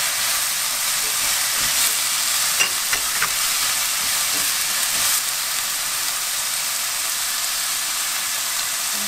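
Bellflower root stir-fries in a hot pan, giving a steady, even hiss and sizzle with a few faint scrapes, continuous and close, with no talking.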